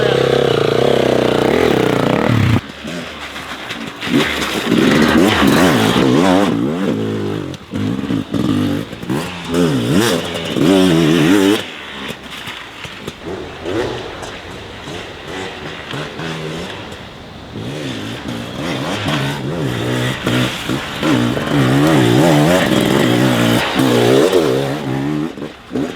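A Beta RR300 X-Pro two-stroke dirt bike engine revs and blats up close on a bumpy, low-traction trail, with the throttle rising and falling repeatedly and a voice briefly heard over it.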